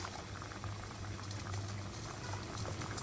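Mughlai paratha frying in hot oil, a steady dense sizzle and bubbling that stays close and continuous throughout with no voices.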